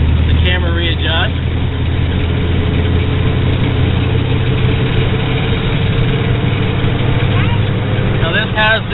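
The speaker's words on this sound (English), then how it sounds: "4-cylinder Volkswagen water-cooled engine." A Volkswagen Iltis with a 1.8 four-cylinder water-cooled engine hums steadily from inside the cab while driving, a loud continuous drone with a voice briefly talking at the start and end.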